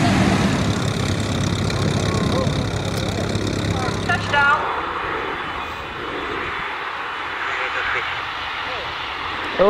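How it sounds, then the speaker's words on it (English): Engines of a Hercules C-130 military transport aircraft drone loudly and steadily, a broad propeller roar that changes character partway through and then continues at a lower level, with a voice talking over it. "An Indonesian Air Force Hercules C-130 aircraft crashed into a residential area in Medan, Indonesia."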